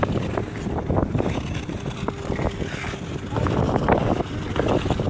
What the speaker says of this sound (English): It's like so windy out here.